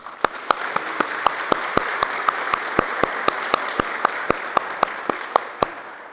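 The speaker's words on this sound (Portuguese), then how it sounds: "Uma salva de palmas." A church congregation in Balneário Camboriú claps along, with sharp, evenly spaced rhythmic claps standing out over a steady bed of softer applause.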